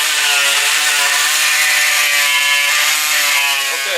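A power tool trims material around a custom gauge in a 1934 Ford Coupe. It runs loud and close with a steady high whine and grinding that holds for the whole stretch, with no voices.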